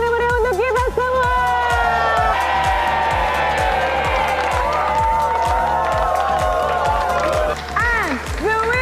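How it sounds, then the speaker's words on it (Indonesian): A studio audience at an Indonesian TV show applauds and cheers steadily under loud background music, with crowd noise filling the whole stretch and a voice breaking in near the end. "Sekali lagi berikan tepuk tangan meriah untuk kita semua."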